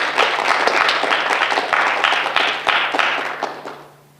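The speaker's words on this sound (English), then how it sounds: "Please join me in thanking them with a round of applause." An audience at a National Honor Society induction ceremony gives a round of applause, the clapping close and steady before tapering off at the end.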